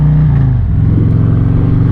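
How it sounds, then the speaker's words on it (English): Motorcycle exhaust from a newly bought bike, a steady low droning rumble at moderate volume with a slight pitch drop early on, heard alone without talk. "I don't know how much of this exhaust you can hear, but this thing sounds good. It's not incredibly loud."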